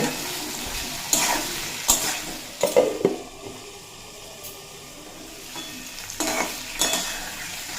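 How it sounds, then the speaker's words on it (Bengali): Mixed vegetables sautéed with salt and turmeric for a Bengali veg ghonto, a steady pan sizzle broken by several clattering stirs and scrapes of a spoon against the pot. "স্বাদ মতো লবণ আর পরিমাণ মতো হলুদের গুঁড়ো দিয়ে খুব ভালোভাবে কষিয়ে নেব"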